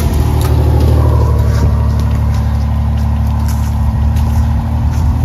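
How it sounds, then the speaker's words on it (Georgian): A car's engine drones steadily and close, a loud, even rumble that holds throughout with no voices. "ეს არის მანქანა"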